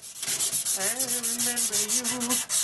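Rhythmic scraping of 60 grit aluminium oxide tape rubbed over the wood of a Les Paul guitar body, with a voice singing along over the strokes.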